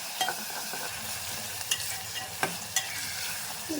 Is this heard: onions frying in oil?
yes